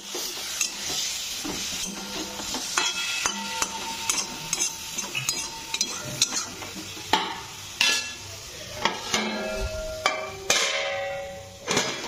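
Marinated chicken pieces fry in hot oil in a home kitchen, a steady sizzle broken by repeated sharp clanks and scrapes of a utensil stirring in the pan.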